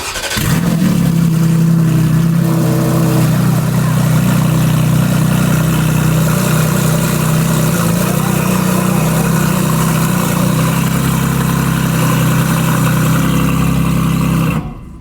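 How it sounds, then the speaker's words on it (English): A car engine revs loudly and steadily up close, its exhaust droning with a sustained low rumble for the whole stretch before cutting off at the end. "I hate the exhaust."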